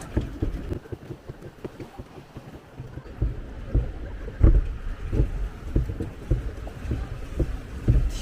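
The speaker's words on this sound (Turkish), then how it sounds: "tekne trafiği oldu etrafımızda" Boat engines and water wash rumble past at close range on a river, with intermittent wind buffeting the microphone and a few louder thumps.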